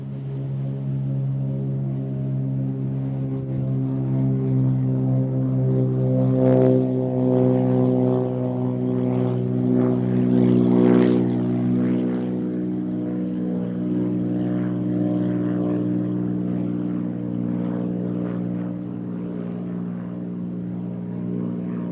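A propeller airplane, a Cessna, drones at Nashville International Airport with a loud, steady engine hum and strong harmonics that swell in the middle and then settle.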